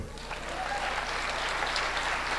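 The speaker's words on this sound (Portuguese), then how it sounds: "Você pode aplaudi-lo?" A church congregation applauds together in a dense, steady wash of clapping that holds at an even level from start to finish, with no one speaking over it.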